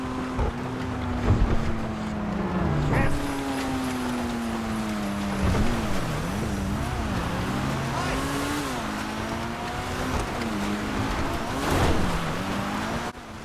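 A Pfister Growler sports car engine in GTA Online revs and shifts, its pitch rising and falling through gear changes, while someone talks over it.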